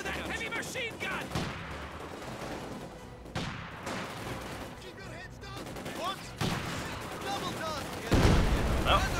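Heavy machine gun fire and scattered booms in the video game Company of Heroes 2 sound as a busy, mid-distance battle din. Game voices talk over the shooting throughout.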